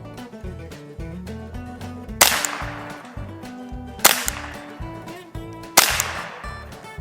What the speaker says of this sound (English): This definitely still has that 22 crack to it. It's not loud, but it's just got that crack.